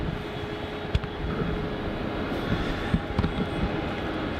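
Jetstar flight JQ29 airliner arriving on runway 16 at Melbourne Airport in heavy wet weather, a steady broadband engine roar with rain noise, moderately distant, with a few faint bumps over the continuous rumble.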